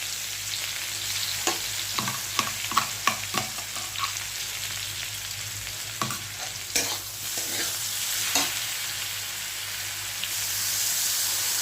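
Vegetables fry and sizzle in a pan for a Bengali vegetarian dish, with a constant hiss and a run of scraping stirs from a spatula, close and fairly loud, no talk.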